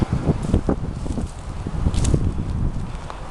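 Gusty wind buffets the microphone with low rumbling bursts on a hilltop, mixed with rustling and a few light footsteps close by.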